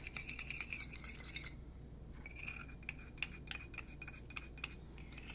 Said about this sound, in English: gonna stir up these colors